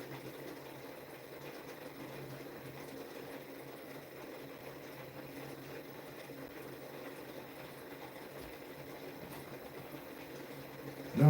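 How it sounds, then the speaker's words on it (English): Electromagnetic pulse motor rotor spinning up to speed on a workbench, a steady low mechanical whir and hum with faint rattling texture, continuous and fairly quiet, ending in a short louder bump. "this rotor is getting up to max speed like a lot faster than the other one was"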